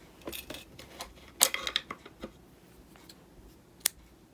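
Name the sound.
cutting the yarn for a colour change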